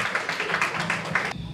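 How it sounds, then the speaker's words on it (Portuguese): Round of applause from a group at a sixteenth birthday party beside a pool, dense steady clapping that fills the moment and stops abruptly. "uma salva de palmas"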